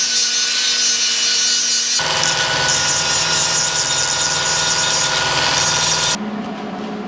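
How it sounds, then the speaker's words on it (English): An angle grinder grinds a sticker off an exhaust flange on a 1953 GMC truck, a loud, steady high-pitched whine with abrasive grinding that shifts pitch as pressure changes, continuous for about six seconds before spinning down. "I'm just going to grind off the sticker here."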